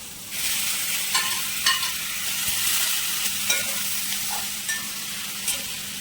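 Steady frying sizzle of crushed garlic, ginger, green chillies, curry leaves and onions in hot oil, with a few scraping stirs of a spoon against the pan; no voices.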